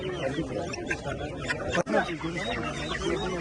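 Chickens and roosters cluck at a crowded poultry sale in Turkey, a dense layer of fowl calls under loud overlapping human chatter and shouting throughout.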